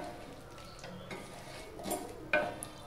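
Masala with a little added stock is stirred and fried in a pan: a soft ongoing sizzle under scraping spoon strokes and a sharp metallic clink, close and fairly quiet, with no talking.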